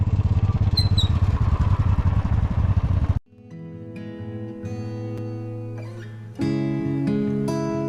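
A motorcycle engine runs loudly with a rough, throbbing rumble, then drops to a steadier idle before revving up again near the end.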